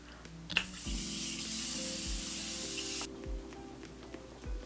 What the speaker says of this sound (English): Going to spray my skin down with the Morphe Continuous Setting Mist.